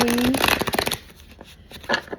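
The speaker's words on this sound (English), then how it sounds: "I did shuffle my cards, but for some reason I felt led to do it again" Tarot cards riffle in a quick, close shuffle that fades to quiet flicks, followed by another short burst of card noise.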